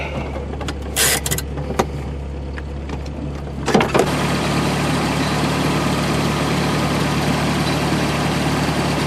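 A Toyota truck engine runs at a steady idle, a low continuous rumble near the mic, while an ATV tire bead is being seated; a few clanks and a brief burst of hiss come early before the engine drone settles alone.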